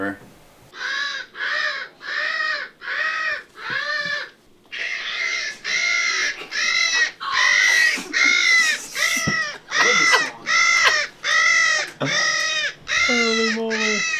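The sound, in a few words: crow cawing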